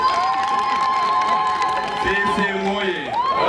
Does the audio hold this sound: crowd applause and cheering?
yes